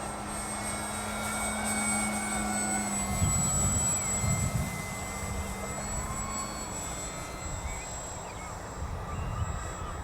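An FMS PA-18 Super Cub electric RC model plane on a 4S LiPo flies overhead with a steady whining motor drone that swells briefly as it passes nearer, then holds constant outdoors.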